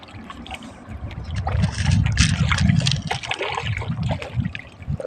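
Hungry tilapia, some around half a kilo to 800 grams, thrash and splash at the water surface while feeding, giving continuous close churning and sloshing that swells in the middle and stays loud to the end.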